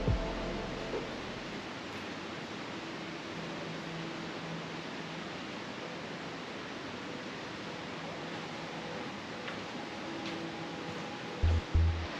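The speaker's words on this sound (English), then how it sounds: "as soon as you get in here, you can hear running water" Running water echoes inside Yordas Cave as a steady, hissing wash that fills the space, moderately loud and unchanging, with a few faint bumps at the start and near the end.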